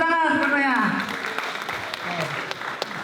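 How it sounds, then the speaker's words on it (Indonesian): An audience at a safety campaign presentation breaks into applause right after a voice speaks, a steady patter of many hands clapping that fades slightly toward the end. "Tepuk tangan semuanya."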